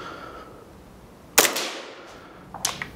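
A Tokyo Marui Hi-Capa 5.1 airsoft pistol fires two sharp, snappy cracks about a second apart, fairly quiet and close, each with a brief rattling tail. There are no voices.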